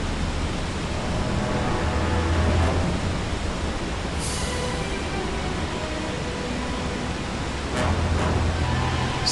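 A huge waterfall in The Good Dinosaur storybook game app, a steady broad roaring rush of water that holds evenly throughout with a couple of brief splashy swells.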